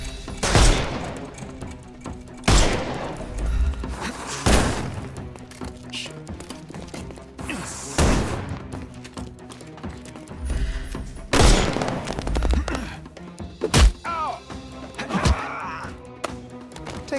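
Gunfire in the Sherlock Holmes: Chapter One video game: several loud, sharp shots and booming blasts at irregular intervals, each with a short echoing tail, amid game ambience and occasional voices.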